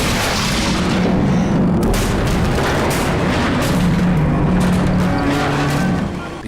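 Cannon fire in Gun, the 2005 Western video game: heavy, continuous booming blasts and rumble, loud and dense for the whole stretch, with no talking.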